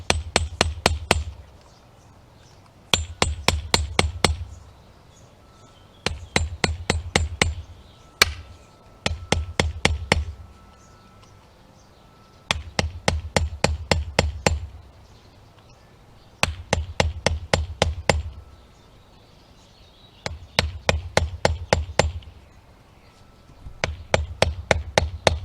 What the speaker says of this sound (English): I've always seemed to have pretty good luck just using a hammer and chisel